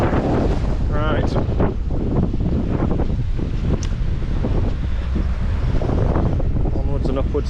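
Strong, constant wind buffets the microphone on a narrowboat in the UK, a dense roaring rush with gusting swells, and faint voices barely surfacing beneath it.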